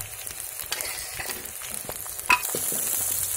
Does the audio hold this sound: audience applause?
no